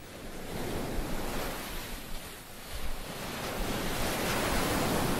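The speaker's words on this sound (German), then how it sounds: "Die unerbittlich peitschenden Wellen formen die Küste." Ocean surf lashes a coastline in a continuous broad roar of breaking waves, steady and loud with some wind, no voices.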